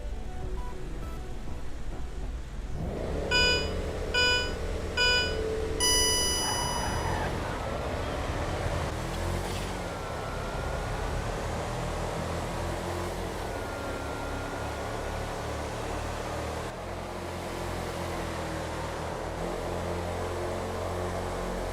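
Two virtual sport SUVs, an Ubermacht Rebla GTS and a Lampadati Novak, race in a straight-line drag in GTA V. Their engines roar continuously with rising and falling whines under a steady rush of wind and road noise.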